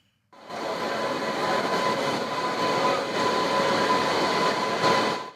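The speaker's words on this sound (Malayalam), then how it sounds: "റെയിൽവേയുടെ ഉദയ് എക്സ്പ്രസ് സീരീസിലെ ആദ്യ ഡബിൾ ഡക്കർ AC ചെയർ ട്രെയിനാണ് ഇത്." The double-decker AC chair-car Uday Express runs on a test trip on the Coimbatore–Palakkad extension, a loud, continuous rolling rumble of passing rail cars that starts abruptly and holds steady.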